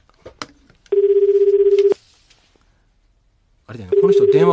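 An outgoing telephone call produces a ringback tone, two steady buzzing bursts about a second long separated by a pause, with brief voices and clicks near the start.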